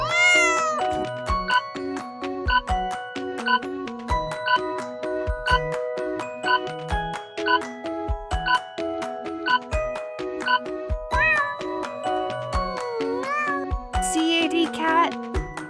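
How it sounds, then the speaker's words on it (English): A domestic cat on a farm meows repeatedly over a continuous plinking, rhythmic music bed, with a loud drawn-out meow standing out near the end. "Cat."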